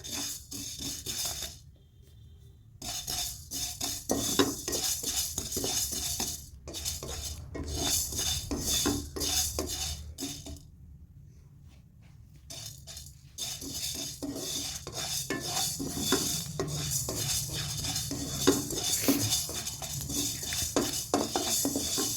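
Pickle masala spices, including fenugreek seeds, stirred in a hot kadhai: repeated metallic scraping and clinking of a spoon against the pan with brief pauses and a faint sizzle underneath.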